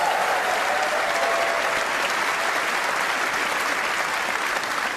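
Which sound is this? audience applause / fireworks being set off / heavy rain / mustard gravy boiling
audience applause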